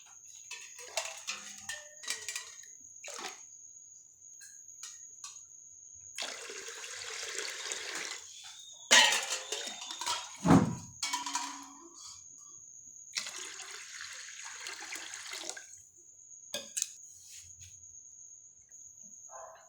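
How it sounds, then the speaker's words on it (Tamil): Water is poured into rice for cooking in a pressure cooker, coming as a few bursts of splashing, gurgling liquid separated by pauses, close by, while a constant high insect-like whine runs in the background. "இப்போ இந்த அரிசியில் 3 உலக்கு தண்ணி ஊற்றிட்டேன்"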